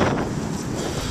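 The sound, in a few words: wind blowing in a park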